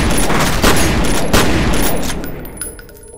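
Gunfire in the shooter game F.E.A.R., a loud, dense fusillade of rapid shots with heavy booms that tapers off into a few scattered reports.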